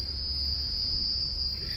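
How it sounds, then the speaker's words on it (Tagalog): Crickets in trees near a tamarind or ipil-ipil tree on Sentosa, Singapore, give a steady, unbroken high-pitched trill, loud and continuous throughout, with low background rumble. "Yung mga kuliglig."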